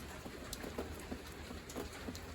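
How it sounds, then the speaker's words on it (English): Rain falling outdoors at a work site with a Bobcat loader, a faint steady patter with scattered drop ticks throughout, no talking. "my camera is out of the rain over there and I'm over here in the rain"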